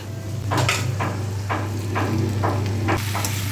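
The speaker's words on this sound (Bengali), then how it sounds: "আজকে রান্না হচ্ছে মাছের মাথা দিয়ে চচ্চড়ি" Fish head chorchori fries in a pan with a low sizzle, broken by a series of sharp, regular scraping and clanking strokes of a spatula against the pan, close and loud.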